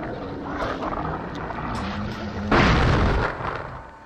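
A grenade goes off in The Thing video game, a single loud boom with a broadband burst that swells then fades over about a second, laid over a steady rumbling game ambience.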